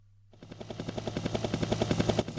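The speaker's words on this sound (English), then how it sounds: "I knew there'd be a helicopter in there." A helicopter effect from a Boss Dr. Synth DS-330 sound module starts abruptly and grows louder, its rotor chopping in a fast, even rhythm over a low droning hum.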